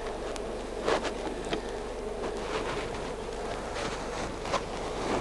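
Bees hum and buzz in a steady drone as they are transferred from a top bar nuc into a hive, close by, with a few louder buzzes as single bees pass near.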